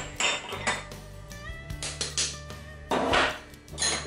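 Dough ingredients for a tropezienne, with milk powder, are briefly agitated in a bowl, producing close clinks, knocks and scraping bursts of utensil against the bowl in an irregular rhythm.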